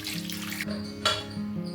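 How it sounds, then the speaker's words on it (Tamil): Colocasia roots are washed by hand in a vessel of water, giving a short burst of close splashing and sloshing with one brief louder slosh. "சேப்பங்கிழங்கு தண்ணியில் 2 வாட்டி நல்லா அலசிட்டு மண்ணெல்லாம் போகணுங்க."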